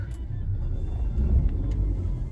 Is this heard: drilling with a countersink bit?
no